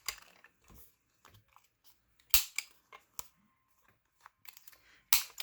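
A handheld corner rounder punches through paper scraps and recycled packaging, giving a few sharp, close clicks and crunches spaced irregularly with quiet handling in between.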